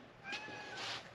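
A short, clear meow from a small striped cat indoors, rising and falling in pitch over about a second, close and fairly loud.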